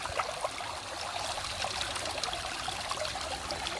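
Creek water gushes steadily through a sluice box lined with truck bed liner at Honey Creek in Ohio, a continuous close trickling rush with small splashy flickers throughout.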